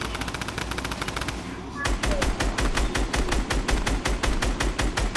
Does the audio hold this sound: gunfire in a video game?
yes